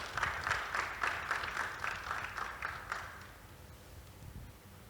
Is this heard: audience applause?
yes